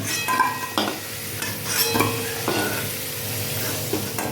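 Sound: frying new potatoes in a pan

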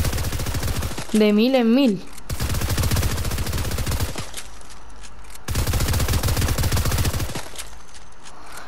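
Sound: gunfire in a video game

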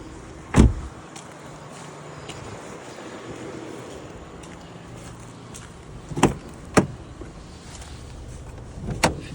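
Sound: opening the hood of a Renault Scenic II

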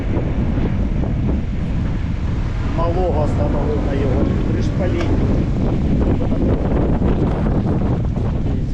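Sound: wind noise on camera microphone

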